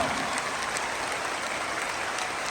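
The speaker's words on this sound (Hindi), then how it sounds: "पेरेंट्स के लिए ताली, पूरी ताकत से ताली।" An audience claps at full strength for parents at a large motivational session, producing dense, steady applause that stays loud and even from start to finish with no talking over it.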